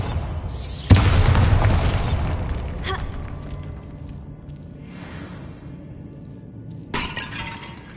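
Bombarda blasting spell in the Hogwarts Legacy video game: a sharp, loud blast with shattering debris that slowly fades, followed by smaller crashes and a second burst near the end.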